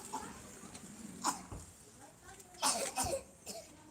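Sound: child coughing

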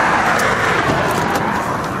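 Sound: car passing by on the roadside

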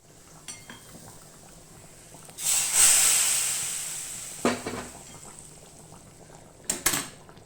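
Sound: pouring mixture into simmering fish curry in a pot

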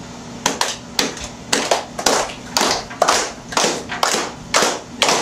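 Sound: hands clapping softly with air between palms

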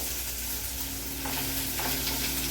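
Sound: ground masala added to fried onions

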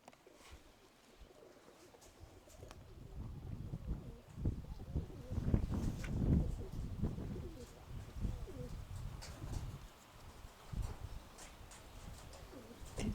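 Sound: pigeons cooing

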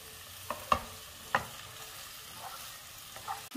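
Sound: stirring quail egg roast with onion masala

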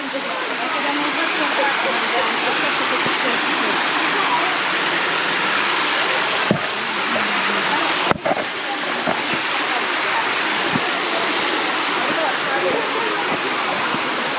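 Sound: waterfall in a canyon, Tatlıca Falls, Erfelek, Sinop

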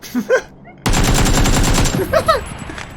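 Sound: gunfire in the video game PUBG

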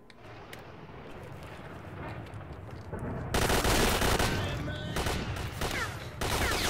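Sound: gunfire in the video game STALKER

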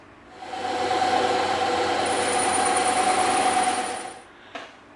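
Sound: bandsaw cutting EVA foam

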